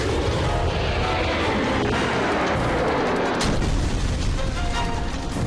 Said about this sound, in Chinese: 赶快瞄准悬崖上的那块岩石，射击！ 爱国者导弹！